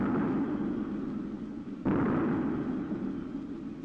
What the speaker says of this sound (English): It was under the Golden Gate for HMS Blake and her crew to a 21-gun salute from the US Army garrison.